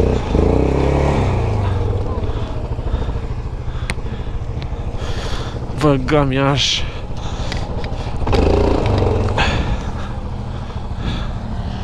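An ATV engine runs steadily on a slope, left with the brake off, rumbling close and continuously while people talk and shout over it.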